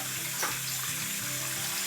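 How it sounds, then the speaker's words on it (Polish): Water running from a tap into a bathtub in a home bathroom, a steady close hiss and splash that continues without a break, with no talking. "Lejemy wodę, wsypujemy do kąpieli i zostaje sama."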